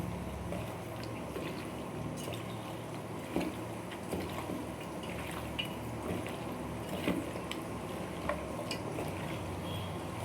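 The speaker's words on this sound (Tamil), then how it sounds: "இதை இப்படி எல்லாம் மிக்ஸ் ஆகிறாப்புல நல்லா பரட்டிடலாம்" Chicken pieces are worked by hand into a freshly ground garlic spice paste for a marinade, making soft, wet squelching and slapping sounds that carry on continuously at a quiet, close level.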